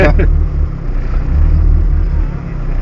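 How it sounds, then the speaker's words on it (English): A Ferrari 360 sports car drives with its windows open, its engine a steady low rumble with wind noise filling the cabin, and a voice briefly heard at the start. "You can hear the car as well."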